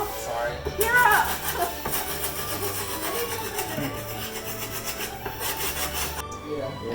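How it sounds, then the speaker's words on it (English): A wooden Tanjiro/Zenitsu cosplay sword prop being sanded by hand, heard as continuous close rasping and rubbing strokes in a steady back-and-forth rhythm, with people talking over it throughout. "Actually, sanding the sword was pretty cool"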